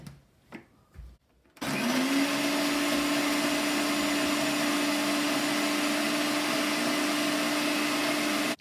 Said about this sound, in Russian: Первым делом забрасываю печенюшки в блендер и превращаю их в